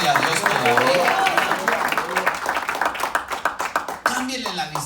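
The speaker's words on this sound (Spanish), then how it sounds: "denle un aplauso al Señor" A church congregation applauds during a Spanish-language sermon, a dense burst of many hands clapping that thins into scattered separate claps, with a voice speaking over it.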